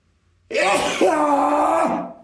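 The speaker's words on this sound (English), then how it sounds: "That's a dad sneeze." One loud, drawn-out sneeze from a man, close by, with a voiced, strained tone lasting over a second before trailing off.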